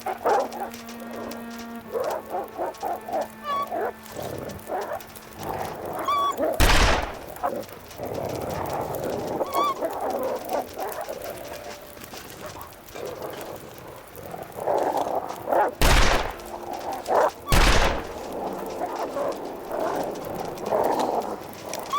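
Gunshots from The Long Dark game, a few sharp loud cracks spread across a longer stretch of ambient noise, single and widely spaced.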